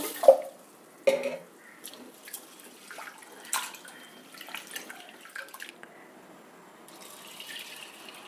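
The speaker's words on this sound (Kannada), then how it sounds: "ಬೇಳೆನ ಚೆನ್ನಾಗಿ ತೊಳಿಬೇಕು ಒಂದೆರಡು ಸಲ ಚೆನ್ನಾಗಿ ತೊಳೆದ್ಬಿಟ್ಟು ಬೇಯೋದಕ್ಕೆ ಇಡಬೇಕು" Lentils being washed in water for pongal, with splashes, swishes and drips in irregular bursts, close by, two sharper sloshes near the start, then lighter rinsing.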